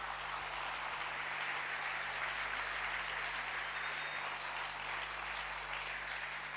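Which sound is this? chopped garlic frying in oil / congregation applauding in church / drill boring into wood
congregation applauding in church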